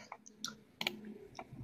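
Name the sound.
computer mouse clicking, malfunctioning and not scrolling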